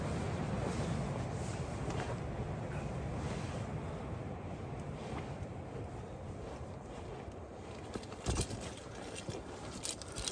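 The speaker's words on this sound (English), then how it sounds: "It is pretty windy. You can probably hear in the trees" A steady, broad rush of wind blows through forest trees, even and continuous, with occasional gusts and a brief bump near the end.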